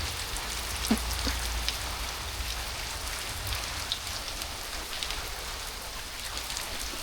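Steady rain falls on surfaces in a continuous, even hiss with scattered nearby drips, moderate in loudness and unchanging throughout, with no voices.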